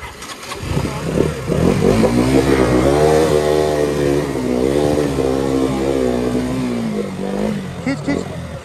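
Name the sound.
KTM Duke motorcycle engine revving while crossing water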